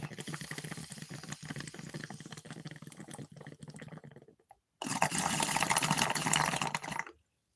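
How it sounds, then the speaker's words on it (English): A bong bubbles in gurgling bursts, first an irregular watery burble and then, after a short pause, a louder, steady stretch of bubbling that cuts off abruptly. "hit the bong."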